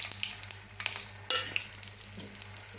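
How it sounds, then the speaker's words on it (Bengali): Whole garam masala spices crackling and sizzling in hot oil in a wok, with sharp close pops over a soft frying hiss and no talking. "গরম মশলায় এটা ফোড়ন দিয়ে এখন এটা চটপট করছে"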